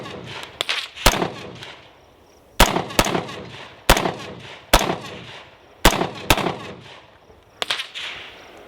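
A Black Rain Ordnance New York compliant rifle fires Federal XM855 green-tip rounds outdoors: about nine loud, sharp reports, some in quick pairs and others spaced by a second or more, each with a short decaying echo.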